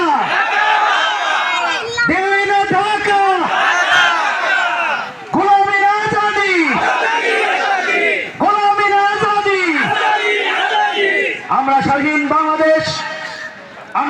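A large crowd at a Victory Day rally chants a political slogan in unison, in loud repeated bursts of a few seconds each, with crowd noise and murmuring filling the gaps between chants.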